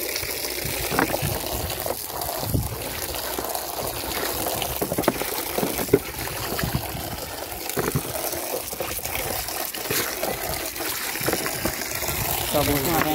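Water pours and splashes continuously on a farm, gushing in uneven surges, while voices can be heard nearby.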